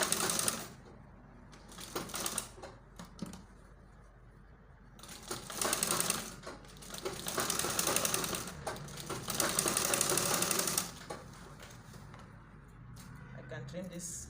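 A sewing machine stitches through baby gown fabric at a turtleneck, running in several bursts of rapid mechanical clatter with pauses between, while someone talks throughout.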